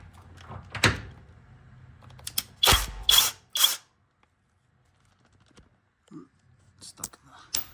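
Socket ratchet clicking on 16mm sway bar bolts under a BMW E46, several short bursts of ratcheting and metal clunks separated by quiet pauses.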